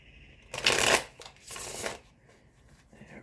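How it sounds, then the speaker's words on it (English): A deck of cards gets a poker shuffle: two quick riffling bursts close to the microphone, the first louder and crisper, the second softer, with brief quiet between and no talk. "One more poker shuffle."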